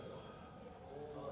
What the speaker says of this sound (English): That sounded like an old rotary phone from the 70s and 60s.